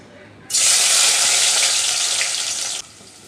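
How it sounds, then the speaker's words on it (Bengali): A large onion drops into hot oil for a prawn and jackfruit-seed curry, setting off a sudden loud, bright sizzle that holds steady for about two seconds, then cuts off sharply. "আমি প্রথমে পরিমাণ মতো তেল গরম করে নিয়েছি এবার দিয়ে দিব একটা বড় সাইজের পেঁয়াজ"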